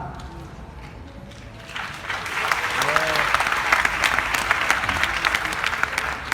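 Audience applause erupts at a comedy show after a quiet moment with faint talk, building into a steady, fairly close burst of clapping from the crowd.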